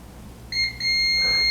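A multimeter's continuity beeper sounds as the probes touch a ground-down copper trace on a circuit board: a short high beep, a brief break, then a steady sustained tone that holds to the end.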